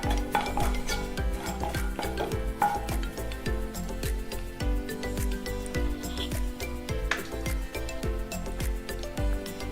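Whole cloves and cardamom pods frying in a pan for paneer masala, with a steady dense stirring and scraping of a utensil against the metal pan, a faint sizzle and clinks throughout, no talk.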